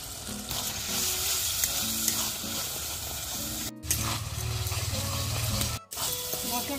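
Masala for chicken kosha sizzling and frying in a pan over a clay stove, with continuous loud sizzle, scraping stirs and brief pauses in the hiss.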